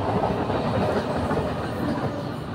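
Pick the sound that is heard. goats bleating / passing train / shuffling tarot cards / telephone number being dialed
passing train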